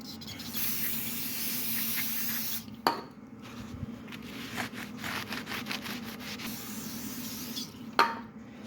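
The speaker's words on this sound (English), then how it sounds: "Time to clean the rotor brake parts cleaner." Brake parts cleaner sprays onto a Jeep Grand Cherokee brake rotor during a wheel bearing repair, producing a long, close, steady hiss with a few sharp clicks and knocks partway through.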